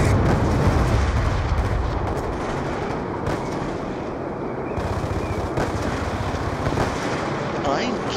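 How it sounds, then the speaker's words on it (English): Hellstorm missile strikes in Black Ops II land as loud, sustained booming explosions and rumbling blasts that merge with heavy gunfire throughout, with no clear voices on top. "Friendly Hellstorm missile inbound."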